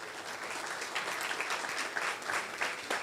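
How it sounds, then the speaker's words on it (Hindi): A church congregation claps loudly for a few seconds after a preacher's call, dense sustained applause filling the hall. "आए खुदावंद के लिए ज़ोरदार तालियां"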